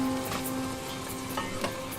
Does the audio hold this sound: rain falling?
no